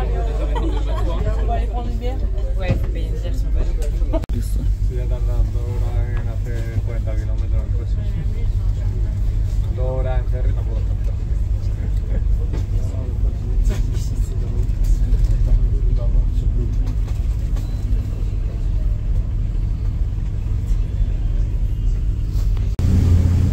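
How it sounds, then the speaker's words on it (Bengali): A boat racing at full speed on the sea near Nusa Penida, Bali, with a loud, steady engine rumble and water roar throughout as people talk over it. "ফুল স্পিডে এখন বোট যাচ্ছে"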